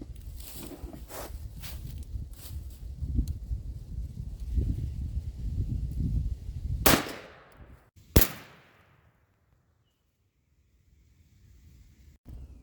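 A shotgun loaded with Remington Nitro turkey loads and fitted with a Carlson Longbeard XR choke fires during outdoor turkey patterning. A rough burst comes first, then one sharp, loud blast with a decaying tail, and near silence follows.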